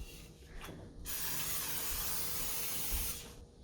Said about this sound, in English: I will begin by spraying my cookie sheet down